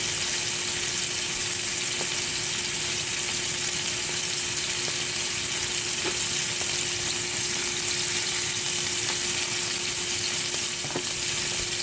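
Scallops fry in a pan with a steady, close, unbroken sizzle that stays even throughout, with a few faint clicks and no talking.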